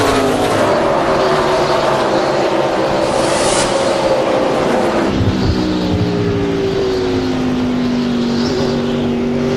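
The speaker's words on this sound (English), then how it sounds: "And you hear the throttle in Kenny's car." NASCAR stock car V8 engines roaring under throttle during the 2003 Pontiac Excitement 400, a loud sustained drone with rising and falling pitch as the cars pass and shift, filling the whole stretch with no voices.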